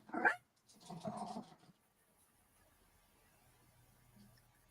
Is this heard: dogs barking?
yes